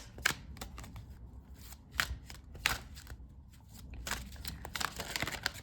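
A Season of the Witch tarot deck is shuffled and cards drawn, with crisp close riffling bursts and soft card slaps in an uneven rhythm, alone without talk.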